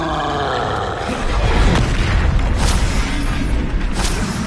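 Glacius and Confringo spells are cast in combat in Hogwarts Legacy on PS5, producing loud booming blasts and roaring bursts that overlap in a dense, continuous rumble.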